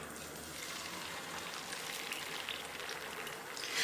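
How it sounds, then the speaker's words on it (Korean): Beaten eggs hit melted butter in a hot pan for a Spanish omelette, producing a dense, steady hissing sizzle that holds evenly and swells slightly at the end, with no voices. "불 조금만 넣어주시고 이제 계란이 들어갑니다"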